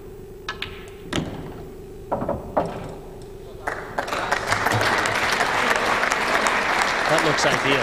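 Spectators at a 2006 WEPF men's quarter-final pool match burst into loud, sustained applause after a few scattered claps and table knocks, with crowd noise swelling and filling the room.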